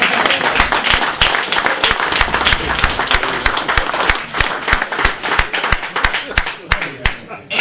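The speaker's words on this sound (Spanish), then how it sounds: "Aplaudan, por favor." Audience applause at a Spanish-language political talk: dense, loud, sustained clapping from a crowd, steady for several seconds and fading slightly toward the end.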